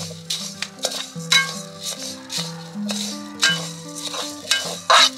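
Ration rice being heated and stirred in a pan to make puffed rice. A spoon scrapes and rattles against the pan with a light sizzle, and soft music plays underneath.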